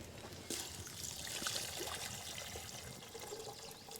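Boiled bean water poured off a pot at a winter bushcraft camp, a steady close splashing and trickling stream beginning abruptly after a brief pause and running on without talk.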